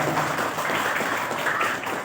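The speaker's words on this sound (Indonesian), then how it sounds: "Tepuk tangannya mana?" Audience clapping at a religious lecture, a faint, steady spatter of applause held at a distance throughout.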